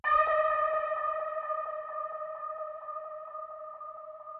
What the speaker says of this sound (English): I'm adding delay, reverb, overdrive to shape the tone